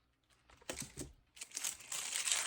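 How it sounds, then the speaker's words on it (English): Scissors snip the tip off a plastic bag of epoxy resin colourant, with quiet crinkling and a couple of soft cuts close by, faint overall and without talk. "where are my scissors? Cut a little tip off of it."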